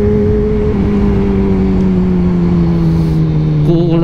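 Kawasaki Z1000 motorcycle engine running through twin exhaust, a loud close steady drone with a slowly falling pitch, holding constant throughout without a break.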